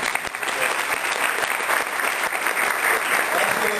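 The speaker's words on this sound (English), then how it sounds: "let's give him a round of applause" Audience at a general session applauding, a dense, steady wash of many hands clapping close around, filling the whole moment at even loudness.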